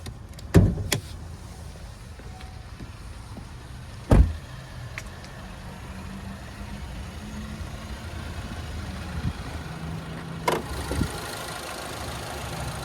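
Hood release on a 2023 Cadillac XT4 Sport with a turbocharged four-cylinder: a few sharp, separate clunks and clicks spread across a quiet, low background hum, with no talking.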